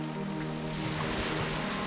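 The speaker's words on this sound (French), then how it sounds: "Les vagues s'apaisent." Ocean waves surge in a steady, continuous wash, with a low rumble and faint wind in the background, heard alone without voices.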